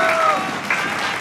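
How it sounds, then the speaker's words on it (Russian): Audience applause for the champion couple at a ballroom dance competition, a dense steady clatter of many hands clapping throughout, with faint voices mixed in. "Искупайте наших чемпионов в овациях"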